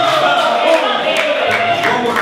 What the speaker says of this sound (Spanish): ¡Los aplausos para él!